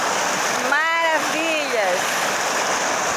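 A waterfall on a farm rushes with a steady, loud broadband roar of falling water; a person speaks briefly over it near the start.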